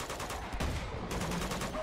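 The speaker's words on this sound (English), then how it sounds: "The hell are they shooting at?" Sustained gunfire rattles through a firefight in Uncharted: Among Thieves, a dense, steady barrage of shots at moderate volume lasting the whole moment with no break.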